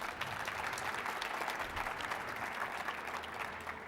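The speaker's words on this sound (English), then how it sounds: "So please give Diana another round of applause." A festival announcement audience gives steady applause, a continuous bed of many hands clapping at moderate volume with no voices over it.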